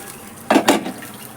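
Fried food for a country-style chicken curry is tipped onto a plate, giving two quick clattering knocks of food and utensil against the dish in quiet surroundings.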